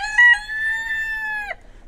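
A small rooster on a farm in Hoshiarpur gives one loud, close crow lasting about a second and a half, ending abruptly, with no talking over it.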